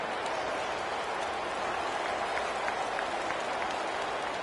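A stadium crowd at a Miami vs FAU college football game cheers and applauds after an interception at the goal line, a steady, distant wash of clapping and crowd roar that holds at an even level throughout.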